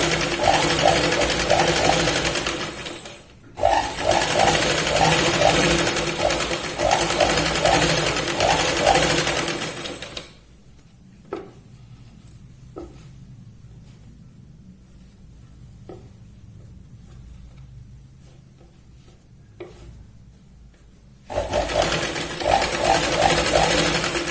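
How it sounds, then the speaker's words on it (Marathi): A sewing machine stitches along the edge of a Punjabi dress made from a sari, loud rapid mechanical chattering in long runs, stopping for a quiet stretch with small handling clicks, then running again. "या पॉइंट पासून आपल्याला कडेने शिलाई लावायची"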